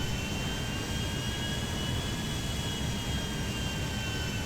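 A steady, loud jet-like engine roar from an airplane in GTA V holds constant throughout, close and unbroken, with no voices over it.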